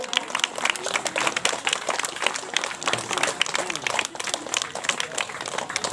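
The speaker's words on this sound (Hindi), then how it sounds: "तालियां बजती रहनी चाहिए हमारे नन्हे मुन्ने बच्चों के लिए" A crowd claps steadily for young children at the opening ceremony of a knockout football tournament, dense rapid applause, fairly close, under someone talking over a loudspeaker.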